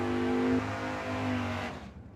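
A Camaro Super Pro drag race car idling loudly at the start line of a dragway, a harsh, steady engine drone that drops in pitch partway and then cuts off.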